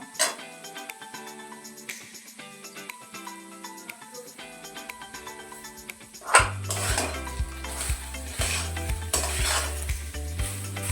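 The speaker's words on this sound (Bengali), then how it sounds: "পুরো ভেজে নেবো। রসটা, ফুলকপির রসটা পুরো শুকিয়ে নেব।" Cauliflower with spices frying in a pan under background music, with a louder sizzle and rhythmic scraping of a stirring spoon kicking in over the second half.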